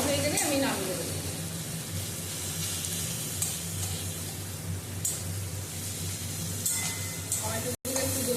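Chopped vegetables, onions and tomatoes, frying in a pan for malai chicken kofta curry, giving a steady soft sizzle and hiss throughout with faint stirring scrapes.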